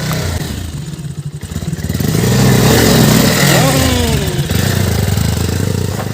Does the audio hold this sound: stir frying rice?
no